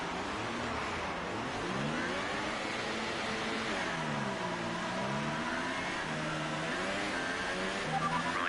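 A racing car engine in a video game race revs up and down through the gears, repeated rising and falling pitch sweeps, steady and fairly faint, with no talking.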